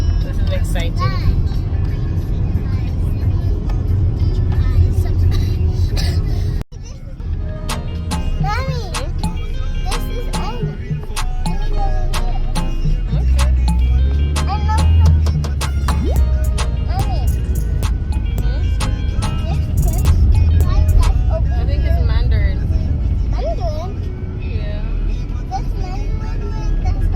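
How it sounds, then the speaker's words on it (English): Steady low rumble of a car driving on a road, heard from inside the cabin, with a brief cut partway through and faint voices and small knocks over the continuous engine and road noise. "now we're driving to the dinner place"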